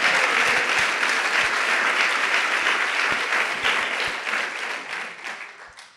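Church congregation clapping hands during a sermon, a dense, steady roll of applause with a few sharper individual claps, holding strong before gradually fading out toward the end.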